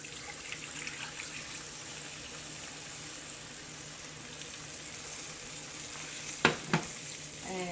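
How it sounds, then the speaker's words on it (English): Milk poured into sooji halwa frying in ghee in a pan gives a steady soft sizzle, then two sharp louder bursts of hissing and splashing as the liquid hits the hot semolina. "now I'm gonna turn my heat on medium, and then I'm gonna add my milk"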